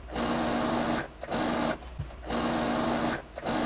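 Sewing machine running in steady bursts as it stitches the side seams of a dress, a close, even mechanical whir stopping briefly between runs.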